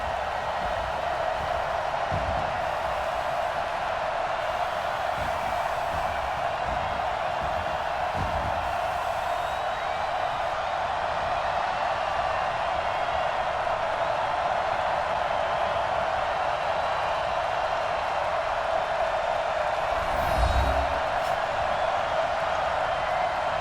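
A large NFL stadium crowd before a Chargers versus Eagles game, a steady dense roar of cheering voices filling the air with distant swells, continuous and broad throughout, with a few thuds near the end.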